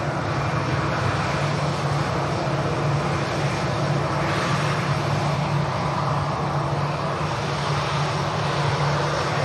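Aircraft engines roaring at Manchester Airport on a windy day, a steady broad drone holding at a moderate distance with no talk over it.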